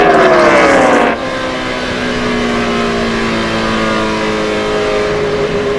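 NASCAR race cars at Fontana, California in 2006: a loud, close engine roar drops sharply as a car comes off the throttle, leaving a sustained droning hum of engines running on into the distance.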